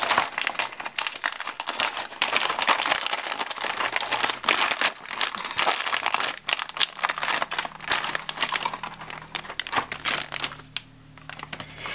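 A Mario Kart 8 surprise booster pack wrapper is carefully opened, with close, continuous plastic crinkling and crackling, then tearing bursts that end in quieter rustling.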